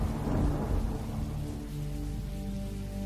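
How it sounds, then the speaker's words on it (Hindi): Heavy rain pours with deep rumbling thunder, a loud, continuous downpour hiss over low rolling booms that swell early and then settle into a steady storm. "जंगल में चलते चलते अचानक तेज बारिश शुरू हो गई।"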